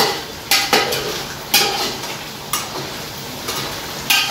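Crab fry cooking in a pan while being stirred, with a metal utensil scraping and clinking against the pan about once a second over a steady soft frying hiss, close by and fairly loud.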